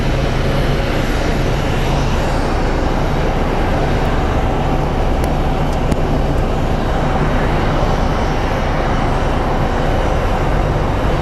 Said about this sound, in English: let's catch this plane taking off to London.